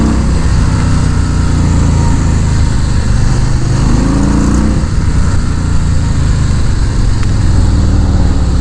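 Harley-Davidson Fat Boy motorcycle engine pulling hard under acceleration, a loud continuous rumble with a rising pitch sweep midway, close up with heavy wind noise.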